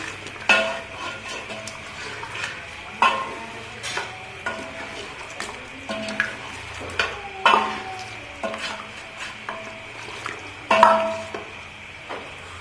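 Mutton fried bhuna-style in a pan, with a spoon stirring and scraping in a steady rhythm of sharp clinks against the metal over a soft background sizzle; no talking.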